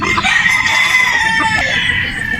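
Boston Roundhead brood stag rooster crowing close and loud, one sustained strained crow filling the moment over steady farmyard background.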